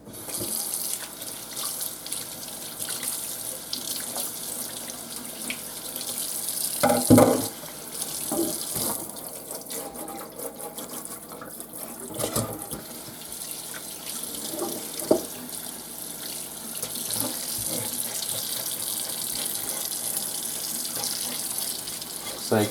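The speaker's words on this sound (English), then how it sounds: "let's bring it back over to the sink and give it one more rinse" A kitchen sink tap runs steadily as a fish, head still on, is rinsed of loose scales beneath the stream, with brief splashes and clatters over the constant rush of water.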